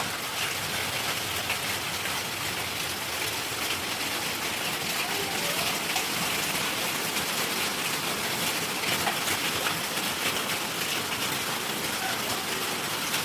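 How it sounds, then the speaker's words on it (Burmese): Heavy rain with hailstones falling roars in a thick, constant wash of noise with faint scattered clatter, loud and close and unbroken from start to finish, with no one speaking. "မိုးရွာရုံနဲ့မကဘူးမိုးသီးပါကြတာပါဗျာ"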